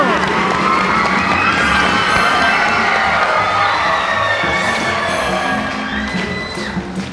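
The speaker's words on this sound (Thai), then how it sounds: "อ้าวปรบมือกับรับรักเลยครับทีมอ้ง" A studio audience at a Thai comedy debate show cheers and claps for a team, a loud, busy crowd noise full of shouts and excited voices that carries on steadily before easing slightly at the end.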